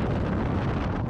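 Strong mountain wind buffets the microphone while snowshoeing in deep snow near Ghisoni, a steady dense roar with no pauses across the whole moment.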